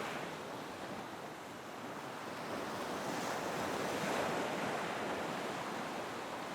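Ocean waves washing in a steady, broad rushing surge that swells slightly midway, soft and continuous with wind noise mixed in.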